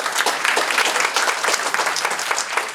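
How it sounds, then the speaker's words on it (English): An audience at a Japanese business New Year gathering applauds a sponsor with steady, close clapping from many hands, holding an even level throughout. "a big round of applause to Ito-En"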